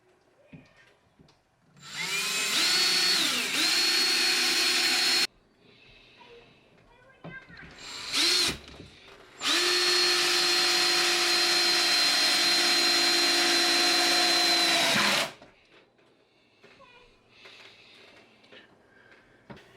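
A power drill drives screws through boards into wall studs. It whines in two long, loud runs, with a short burst between them and speech at points in between.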